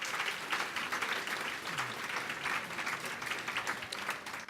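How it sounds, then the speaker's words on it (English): An audience at an awards ceremony applauds, a dense steady wash of clapping that runs the full length, moderately loud and even, with no voices standing out. "why don't you all give yourself a round of applause for being here"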